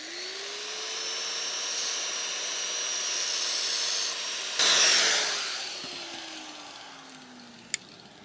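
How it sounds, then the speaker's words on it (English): An angle grinder cuts a groove along a crack ahead of welding, a loud continuous high whine that holds steady, surges into harsher grinding midway, then winds down in pitch with a sharp tick near the end. "I'm just gonna grind a little groove in this for something to take the weld"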